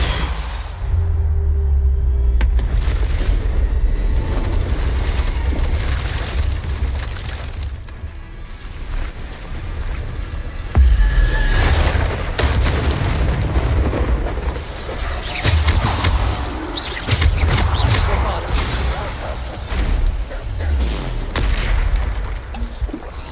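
Repeated Bombarda explosion spell blasts in a video game, heavy booms and bursts following one another across the clip with continuous rumbling impacts and no talk.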